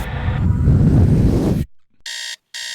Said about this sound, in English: Would you turn that alarm off?